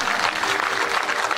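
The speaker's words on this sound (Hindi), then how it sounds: "एक बार जोरदार तालियां।" Applause from an audience at a Hindi religious storytelling gathering, a steady dense wash of clapping filling the whole moment without a break.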